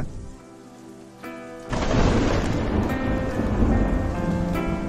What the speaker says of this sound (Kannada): ಮಳೆ ಪ್ರಕೃತಿಯ ಹಲವು ವಿಸ್ಮಯಗಳಲ್ಲಿ ಒಂದು